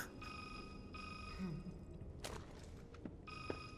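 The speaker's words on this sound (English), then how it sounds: "Your ringtone's really annoying." A phone ringtone rings in Resident Evil 6, a repeating electronic tone that cuts in and out over game noise and a few thuds, fairly faint and close.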